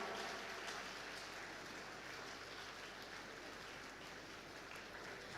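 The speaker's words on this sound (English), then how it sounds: "A huge round of applause" An audience at a college passing out ceremony applauding, a steady dense wash of clapping that continues evenly, heard at a distance and fairly faint.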